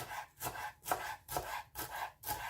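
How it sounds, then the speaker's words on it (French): Fresh coriander is chopped coarsely with a knife on a board, about six even, rhythmic thuds close up, each with a brief crisp slice, no voices. "On va venir couper la coriandre grossièrement."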